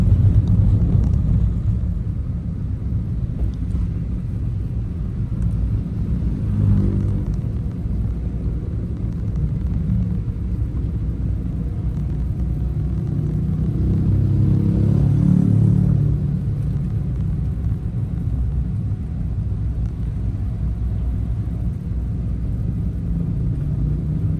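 Road traffic passing by, many vehicles, a continuous low rumble with engine noise that swells as vehicles go past, one louder surge about two-thirds through, with no talking.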